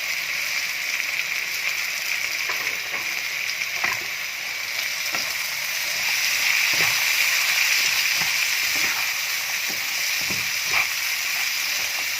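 Potatoes and green beans frying in a pan, a steady broad sizzle throughout with occasional stirring clicks and pops, close and fairly loud with no talking.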